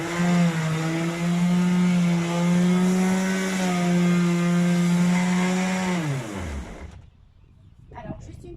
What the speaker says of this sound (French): là, je fais un simple égrenage